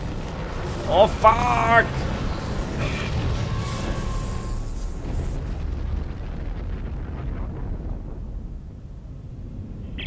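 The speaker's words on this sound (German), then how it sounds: "das war ein bisschen doof, direkt vor der Explosion zu stehen" A deep rumbling blast in the sci-fi horror game Dead Space 3, with a few sharp impacts early on, then a sustained roar that slowly fades out while a man swears over it.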